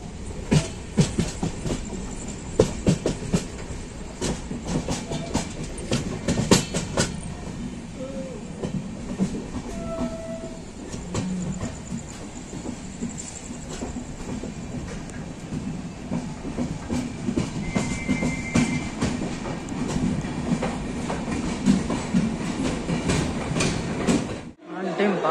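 Island Express passenger train from Kanniyakumari to KSR Bengaluru runs on rails, a steady loud rumble with rhythmic clickety-clack of the wheels heard from inside the carriage, continuous throughout with brief talk in between.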